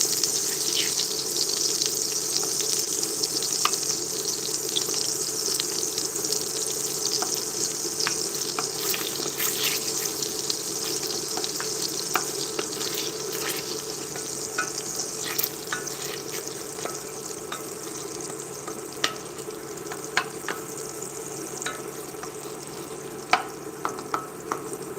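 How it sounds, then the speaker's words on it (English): Butter sizzling and frying in a pan on medium-low heat, a steady close hiss with scattered crackles and small pops running throughout, with no talking. "you can see the butter's really cranking up"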